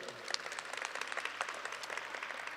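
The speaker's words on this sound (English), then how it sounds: "this is more applause than my mother gave me over 21 years" Audience applause at a corporate community commitment event, soft, distant clapping that continues steadily for a few seconds.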